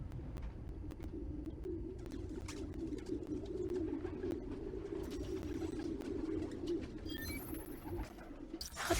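Pigeons coo softly in a park setting within the Spider-Man Miles Morales game, a steady low murmur of calls over faint background rumble, with no speech.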